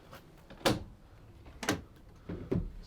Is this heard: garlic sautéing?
no